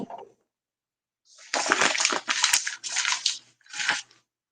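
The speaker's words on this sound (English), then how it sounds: "Then you take the flour and shake it like this." Flour is shaken in a pan by hand, giving four close rustling, gritty bursts of fairly loud broadband noise in quick succession after a short quiet pause, with no talking.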